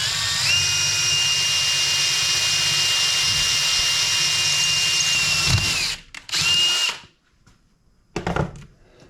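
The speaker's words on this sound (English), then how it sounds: "I'm going to drill a hole inside of this metal" A power drill bores a hole through metal held in a vise, a steady loud whine for nearly six seconds before it slows, then a short second burst and a few clunks of the drill and workpiece.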